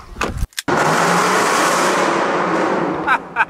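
A 2020 Lincoln Aviator pulls away loudly and nearby, its engine roar rising and holding after a short gap, with brief voice fragments at the start and near the end.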